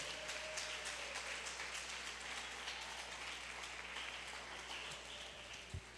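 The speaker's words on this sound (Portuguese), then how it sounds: "Então dá uma salva de palmas ao Senhor Jesus e levante-se" Congregation clapping in praise to Jesus during a church service, a steady, dense wash of applause from many hands that keeps going for the whole stretch at moderate loudness.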